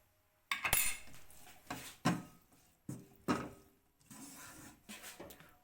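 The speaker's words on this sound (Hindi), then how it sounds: "इसमें डालेंगे 1 टीस्पून सोया सॉस, इसको मिक्स कर लेंगे" A metal spoon clinks and scrapes against a bowl while soy sauce and white pepper are stirred together for chicken fried rice, several sharp close taps spaced out with short scraping strokes between.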